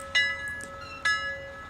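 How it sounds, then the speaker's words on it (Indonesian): A doorbell rings repeatedly at a house, three sharp bright tones about a second apart with sustained ringing between them, clear and close. "Bel terus berbunyi."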